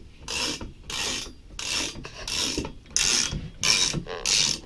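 A Mopar 360 crankshaft is spun by hand in the engine block, making about seven repeated rasping, whirring rotations in an even rhythm, close and clear with no talk.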